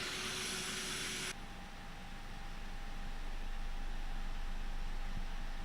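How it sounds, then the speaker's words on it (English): Airbus A319 jet engine spooling up during start in X-Plane 11 flight simulator, a steady broadband roar and whine with a thin tone, loud and continuous, alone without talk. "Hear the engine starting up."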